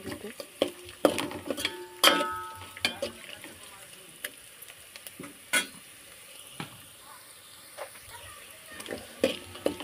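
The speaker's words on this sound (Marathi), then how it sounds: "थोडासा कांदा लाल होईल तोपर्यंत मी पलटून घेते असे आणि भाजून घेते मस्त असे" Chopped onion stirred and fried in a little oil in a pan, with scattered scraping and clinking strokes of a spoon against the pan over a soft, quiet sizzle, close up.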